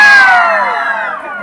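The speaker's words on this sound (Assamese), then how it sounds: "এইখনতো ইমান চিঞৰ" Loud crowd at an outdoor cultural evening event in Chatia Patia village, Assam, shouting and cheering in a bright, sustained roar that slowly tapers over a second and a half.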